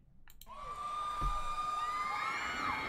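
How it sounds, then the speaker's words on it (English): A concert crowd at a live show swells into cheering and whooping, growing louder over a couple of seconds and then holding a sustained roar. "Love that crowd"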